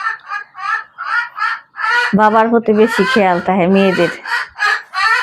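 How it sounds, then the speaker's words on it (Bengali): A hen clucks in a quick series of close, rhythmic calls, then a voice speaks over it in the middle before the clucking continues alone in short bursts. "দেখো মুরগি কি সুন্দর গান দিয়ে লেছো"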